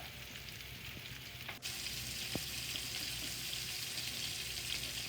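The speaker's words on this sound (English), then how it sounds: "At this point, we want to add a little bit more butter, and the mushrooms go in" Mushrooms hit melted butter in a hot pan at medium-high heat, bursting into a steady, bright sizzle after a soft clatter, with a faint clink as the frying hiss continues evenly.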